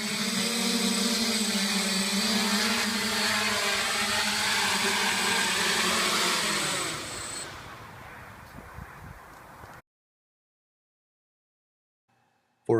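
A gun-carrying quadcopter drone flies with a loud, steady multi-rotor whine and buzz for about seven seconds, then the pitch drops and the motors wind down; near silence follows before a short bump at the very end.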